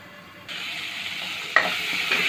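Peanuts frying in a pan and being stirred, with a steady sizzle that swells after a moment and sharp scraping and clinking strokes of a spoon, close and fairly quiet.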